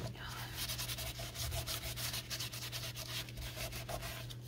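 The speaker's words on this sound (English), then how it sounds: "Press and then rub, because you know once you rub it, if you start out rubbing it, it's going to move it." A fold on a Christmas treat bag is rubbed down with steady, rapid back-and-forth scuffing strokes, close up and continuous over a low hum.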